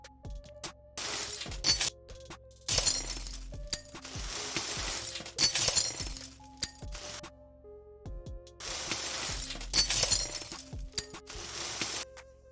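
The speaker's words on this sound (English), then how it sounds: "The shattering happens gradually, so let's start with the softer beginning and cut a few more of the glassy parts." Layered glass shattering effects built up for a 3D animation, with several bursts of breaking glass and tinkling shards arriving in clusters, some softer and faded in, others sharp, with brief quiet gaps between them.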